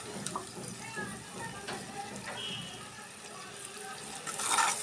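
A little water is poured onto coriander powder and salt, making a soft, steady trickle and splash at close range over faint background hum, ending in a slightly louder splash.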